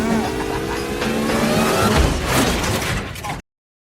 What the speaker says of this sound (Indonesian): Johnny mengebut menggunakan mobilnya dan balapan itu berlangsung sangat amat sengit